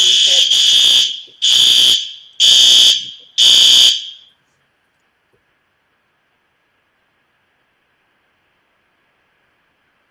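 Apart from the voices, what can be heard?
fire alarm going off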